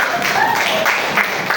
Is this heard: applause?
yes